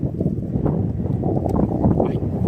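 Outdoor wind gusts buffet the microphone, producing a constant low, rumbling roar with uneven surges throughout the short stretch, and no clear speech.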